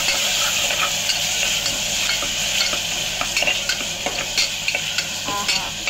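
Ground masala paste fries in oil while being stirred, giving a steady close sizzle throughout with scraping stirs and small taps of the spoon against the pan.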